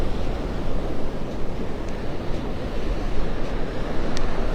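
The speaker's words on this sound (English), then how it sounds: "The wind is at my back right now, coming out of the northwest." Steady roar of wind and surf on Vanderbilt Beach in North Naples on a breezy morning with a northwest wind, a dense continuous rush filling the whole stretch without letup.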